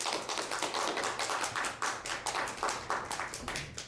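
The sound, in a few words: church congregation clapping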